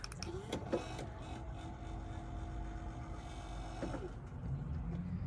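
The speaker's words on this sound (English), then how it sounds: "you can change the speed of how fast or slow your power pole goes up and down" A Power Pole shallow-water anchor motor on a Bass Tracker 175 boat gives a low, steady electric whirring hum as the pole moves, with a few faint clicks near the start and end, fairly quiet and without speech.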